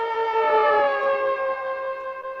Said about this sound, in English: and then I heard the sirens